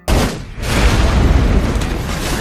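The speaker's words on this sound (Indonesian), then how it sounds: "menemukan sebuah bom dan bom itu pun meledak" A loud, deep boom bursts in suddenly, then a heavy rumbling roar lingers and fills the rest of the moment.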